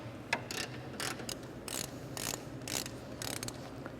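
Ratchet wrench loosening engine mount bolts on a 2001 Toyota Solara, a quiet rapid clicking repeated in short bursts of strokes, close by with faint garage background and no talk.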